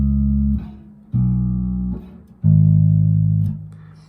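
Guitar playing the first four notes of a song: a few sustained low plucked notes, each ringing clearly before the next, close and solo.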